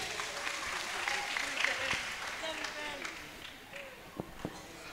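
Audience clapping at a religious gathering in Probolinggo, East Java, fading gradually with a few louder isolated claps near the end and a speaking voice mixed in.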